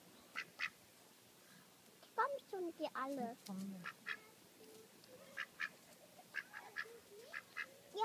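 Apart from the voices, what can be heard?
ducks quacking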